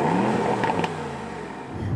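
Mercedes S63 AMG V8 engine revving hard in a 2018 car, a steady loud drone that surges briefly, then settles and builds again, heard up close with no talking.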